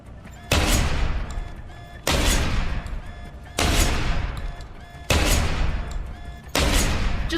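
An automated turret in Deus Ex: Human Revolution fires loud sustained bursts, five long roaring volleys each starting abruptly and tapering, with short gaps between them.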